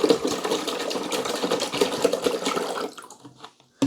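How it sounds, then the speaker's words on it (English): Straight vinegar poured into the water reservoir of a Keurig K155 Office Pro coffee maker, a close, steady splashing pour that tapers off and stops near the end, followed by a short knock. "you're going to pour the vinegar right into the water reservoir"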